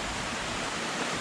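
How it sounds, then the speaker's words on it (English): Waterfalls at Ricketts Glen State Park give a brief, steady broadband rush of falling water, even and unbroken, with no voices. "Oh, more waterfalls."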